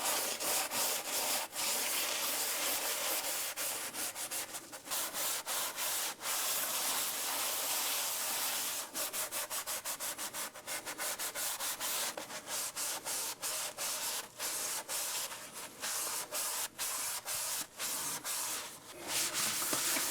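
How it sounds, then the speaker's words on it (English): A new gold pan is scrubbed hard to strip its releasing agent, giving a close, continuous rhythmic rubbing and scraping that runs steadily throughout with no speech. "When you're cleaning your pan up and getting this releasing agent out of it, don't be afraid to really get in there and scrub it."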